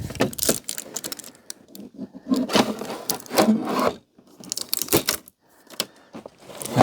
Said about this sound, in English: we can release some tape to get us a bit more room.